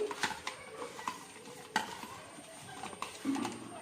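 Dry spice powders, half a spoon each of caraway powder and turmeric, being stirred together for a Maharashtrian fish curry masala: soft, intermittent spoon scrapes and taps close by, fairly quiet, with no talking.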